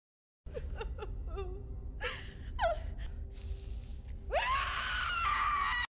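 A girl trapped in a slippery ravine gasps and cries out, breaking into a long, loud scream for help near the end, close and strained.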